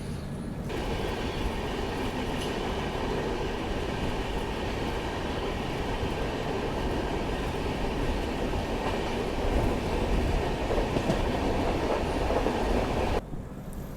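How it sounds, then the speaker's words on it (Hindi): Sarnath Express train rolling out after departing Prayag Junction, a loud continuous rumble of wheels on rails heard from inside the carriage, steady clatter with no voices before the noise drops off at the end. "अब जाके डिपार्चर हुआ है प्रयाग जंक्शन रेलवे स्टेशन से।"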